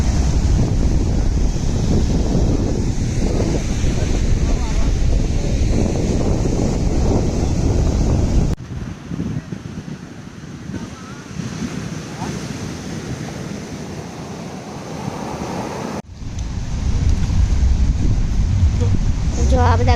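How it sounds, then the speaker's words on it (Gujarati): Sea waves with a strong current surge at a beach in South Goa, a loud, constant roar mixed with wind buffeting, easing somewhat in the middle before swelling again. "દરિયામાં કેટલો બધો કરંટ છે"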